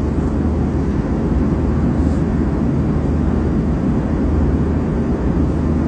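Steady, loud airplane cabin roar fills the space during a flight from Sweden to Germany, a constant broadband engine and air rumble with no breaks.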